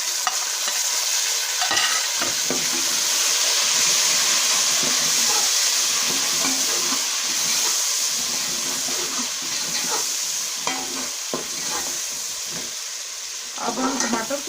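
Tomatoes fry and are stirred in a pan with spiced achari potatoes, giving a continuous sizzle broken by scraping stirring strokes, close and fairly loud with no voices.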